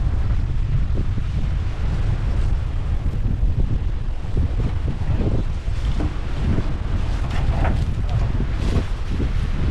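Strong wind buffets the microphone in continuous low rumbling gusts, with faint, indistinct voices beneath.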